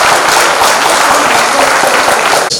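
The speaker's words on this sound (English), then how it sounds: "Please get a big round of applause for all the dear lecturers on stage." An auditorium audience applauds lecturers on stage at a college event, a dense, loud, steady wash of clapping that continues throughout and cuts off abruptly near the end.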